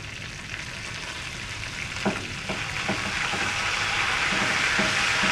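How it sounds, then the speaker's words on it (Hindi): Curry leaves added to urad dal frying in oil in a pan give a steady, close sizzle that grows slightly louder, with a few soft stirring knocks and no talking. "अब मैं इसमें कड़ी पत्ता डाल रही हूँ।"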